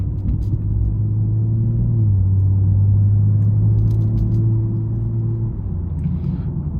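A 2022 BMW M240i xDrive on the move gives a low, steady engine drone and road rumble from inside the cabin, the tone dipping and rising slightly as it shifts, with no talking.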